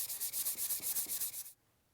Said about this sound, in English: So I'm going to take care of that sanding